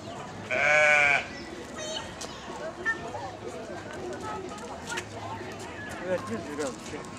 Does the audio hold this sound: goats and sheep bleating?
yes